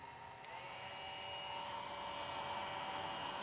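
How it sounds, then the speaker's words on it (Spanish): A handheld hair dryer runs continuously with a steady whining hum and airflow hiss, close and fairly loud, alone without talk, during an electrical test. "Vos manejar el secador. Sécame el pelo a mí."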